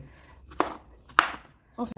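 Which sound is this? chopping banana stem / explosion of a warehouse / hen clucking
chopping banana stem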